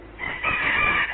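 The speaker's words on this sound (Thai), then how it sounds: "เาะแม้แต่เสียงไก่ขันมันมีประโยชน์" A rooster crows once, a single drawn-out call heard fairly close and clear with no talking over it.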